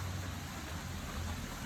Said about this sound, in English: A gentle, a gentle rain falling.